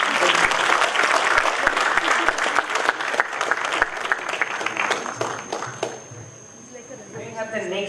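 Audience applause at a Toastmasters club meeting, several seconds of lively clapping with distinct individual claps, tapering off as a speaker begins talking near the end.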